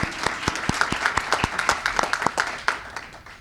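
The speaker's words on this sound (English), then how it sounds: "Yes, also clap for that." An audience at a community celebration in a Seattle cultural center claps, a small crowd with distinct, fairly close hand claps in an uneven rhythm that gradually thins out.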